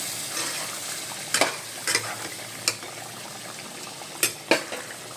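Pieces of chicken kebab fry in plain white oil in a pan, a steady soft sizzle broken by several sharp scrapes and clinks as they are stirred, close and alone without talking.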